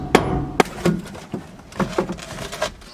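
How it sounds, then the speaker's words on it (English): A series of sharp metallic taps from a hammer on a breaker bar during Toyota Coaster brake master cylinder work, irregularly spaced, some louder than others, close by with a faint mechanical background. "I'm tapping it with a hammer just to help push it up to separate it"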